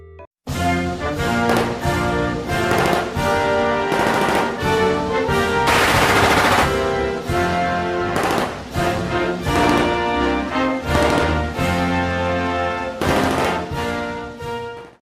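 Rapid, repeated flintlock gunshots in the video game Arcane Odyssey, a dense series of sharp cracks with sustained game music underneath, loud and continuous for about fifteen seconds, no voices.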